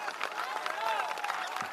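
A crowd claps and murmurs at a Bihar Badlav Yatra political rally in Kargahar, Rohtas district, as a steady, dense wash of applause mixed with voices.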